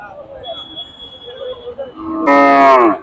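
A single loud dairy cow moo rises out of background chatter at a cattle market near the end, close by and sustained for under a second.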